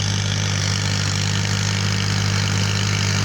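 A tractor engine runs at a steady idle on farmland, its loud, constant low drone and rough mechanical hum filling the whole moment with no pauses and no voices.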